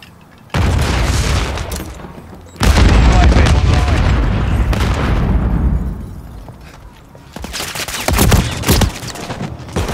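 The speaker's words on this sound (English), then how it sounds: "She just thrown a grenade" Grenade blasts and heavy gunfire in Call of Duty Modern Warfare 3 multiplayer, loud booming bursts that arrive in separate surges over a steady battle din, with a voice talking in places.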